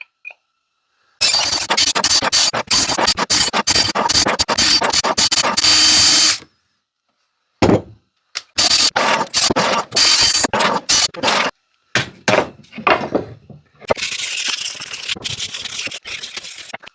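Sandpaper at 220 grit rubbed along the fretboard of an inexpensive guitar being scalloped, heard as close, loud bursts of rasping scrubbing strokes broken by short pauses, with no talking.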